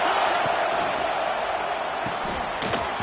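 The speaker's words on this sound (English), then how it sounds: "This crowd, full throat, spreading the eardrums and letting them know it's going to be a long day" Stadium crowd at a Florida State versus Texas college football game, roaring loud and steady throughout as a continuous wash of cheering with a few faint thuds.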